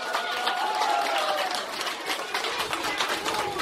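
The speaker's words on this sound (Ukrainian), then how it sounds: "Оплески, оплески, батьки, так само ваші оплески потрібні." Parents in an audience applaud at a children's summer Bible holiday event, with brisk, continuous clapping that rises and dips, and some voices mixed in underneath.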